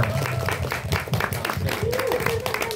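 Audience applause at a sixth-anniversary community event, steady clapping from a crowd with voices mixed in throughout.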